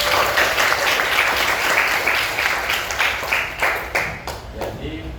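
Classroom applause as students clap together in a steady, dense patter, fairly close and loud, fading slightly toward the end.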